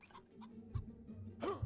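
Chickens cluck in the video game Fable Remastered, a few short soft clucks and a brief rising squawk near the end, quiet and close with no talk over them.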